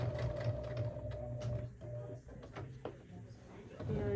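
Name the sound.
sewing machine sewing across a tote bag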